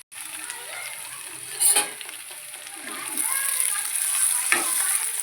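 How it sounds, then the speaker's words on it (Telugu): Brinjal pieces sizzle steadily in a hot pan while being fried, with a continuous hiss and occasional scraping stirs, close by. "ఇది ఫ్రై అవుతుంది."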